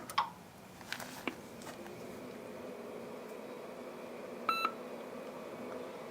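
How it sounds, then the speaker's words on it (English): A Corona Data Systems CS40 Turbo XT all-in-one computer gives a single short, clear beep as it powers up in turbo mode, heard over a steady low hum with a few faint clicks. "Hear it beep."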